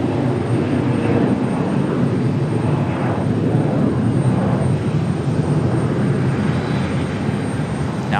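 A CRJ regional jet at Raleigh Durham airport produces a loud, steady broadband engine roar that holds constant and close throughout.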